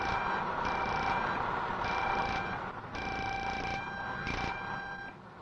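A holiday detector tests bitumen pipeline wrapping for faults, sounding repeated loud, steady electronic tones in long bursts about a second apart over a constant broadband buzz and machinery noise.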